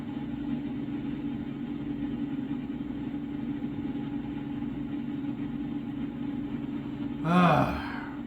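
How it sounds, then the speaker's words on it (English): Under the steady drone of a truck engine in American Truck Simulator, a tired driver lets out one long, rising yawn near the end, brief and fairly close. "My guy's probably going to start yawning here any second now."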